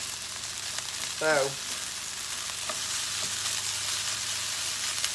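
Skillet rice with okra sizzles steadily in a pan, a constant loud frying hiss throughout, with a brief spoken word early on.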